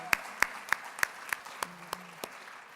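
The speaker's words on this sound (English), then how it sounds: "I want to give them a big round of applause" Sparse, evenly spaced claps at an awards gala, about nine sharp distinct hand claps in a slow steady rhythm, fairly close and isolated rather than a full crowd ovation, with faint room noise underneath.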